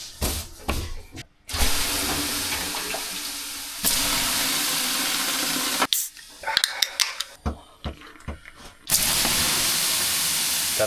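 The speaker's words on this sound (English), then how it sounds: "That Harvia stove is just so great. Very good löyly." Steam hisses off a Harvia sauna stove in bursts as water hits the hot stones, long broadband rushes broken by short crackling spits and pauses, close and fairly loud with no talk.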